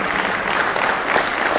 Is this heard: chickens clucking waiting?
no